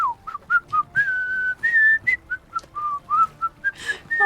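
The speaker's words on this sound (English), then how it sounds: "I love the whistling every time I catch a fish" A fishing-catch whistle in the video game Morrowind: a lively string of short, clear whistled notes that slide and bounce in pitch, loud and close with no talking.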